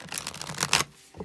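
A Cosmic Tarot card deck is shuffled in a quick burst of crisp, riffling card flutters close to the microphone, followed by a short pause and one softer tap.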